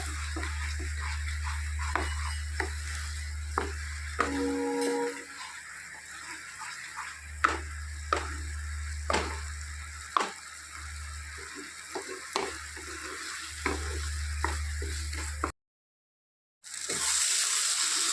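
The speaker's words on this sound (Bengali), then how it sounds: "তো এটাকে 1 মিনিটের মতো আবার কষিয়ে নিতে হবে।" Pomfret curry masala sautéed in a pan gives a low steady sizzle under repeated sharp scraping strokes of a spatula, a brief clink near the start, then a short silent gap before sizzling resumes.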